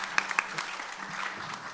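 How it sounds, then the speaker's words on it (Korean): Brief applause from the audience closing a panel talk concert at a startup innovation center event, a short burst of clapping with a few sharper claps standing out early. "오늘 장시간 수고해주신 퍼실리테이터 명승은 대표님과 함께해주신 패널 분들께 큰 박수 부탁드리도록 하겠습니다."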